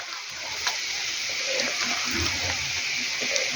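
New potatoes fry in a pan with pork cracklings and sweet paprika, giving a steady, close sizzling hiss. Faint stirring clicks and small splatters sound over it.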